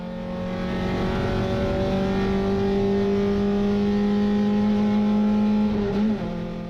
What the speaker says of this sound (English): try to push that pedal through the floorboards and get as much speed for Conrod straight as you can